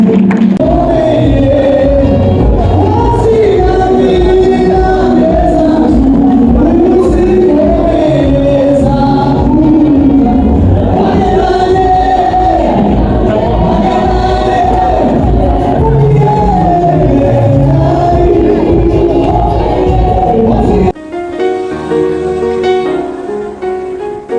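A church congregation applauds and cheers loudly and steadily over music for about twenty seconds, then the clapping drops away abruptly.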